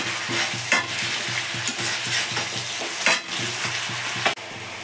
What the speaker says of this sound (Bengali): একটু চিনি দিয়ে দিলাম, নেড়ে ছেড়ে নেবো।